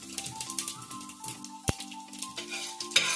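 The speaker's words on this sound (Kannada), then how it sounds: "ಗೋಡಂಬಿ ಹಾಕೊಂಡು ಫ್ರೈ ಮಾಡ್ಕೊತೀನಿ" Cashews fry in hot oil in a pan, crackling and sizzling with light scraping and tapping, then one sharp clack midway, close and without talk.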